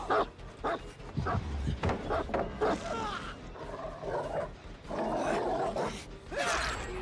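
A dog in The Walking Dead video game barks repeatedly in sharp, uneven bursts mixed with whimpers and yips, loud and close over a busy, noisy background with no clear speech.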